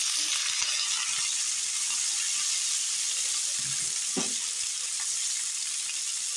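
Onions sizzle and fry in a pan ahead of leafy greens being added, a loud, steady, close hiss with a few faint knocks underneath.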